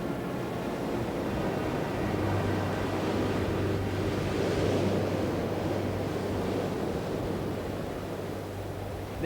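Rough sea waves make a continuous broad wash of surf and churning water, with a low steady hum beneath, moderately loud and unbroken for about nine seconds, no voices.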